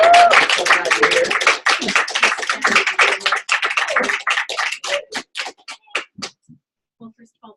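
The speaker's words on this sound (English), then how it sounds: "So let's all welcome Carol warmly with a round of applause." An audience applauds to welcome a guest speaker at a business talk, many hands clapping loudly at first, then thinning to a few scattered claps that fade out, with some voices mixed in.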